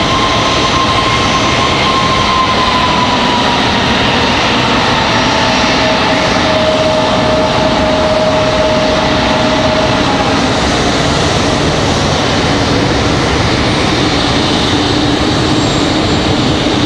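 American Airlines A321 jet airliner arriving at Raleigh-Durham International, a loud continuous engine roar with a thin whining tone sliding downward, steady and close throughout.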